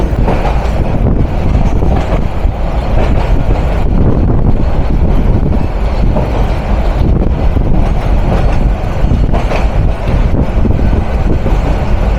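A train runs along the rails at night, a loud, continuous rumble and clatter of wheels on track with wind roar, sustained throughout without pause.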